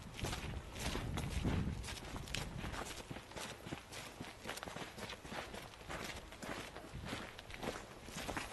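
Footsteps crunch at an even pace along a vineyard path, faint and close, with a soft background hiss of wind.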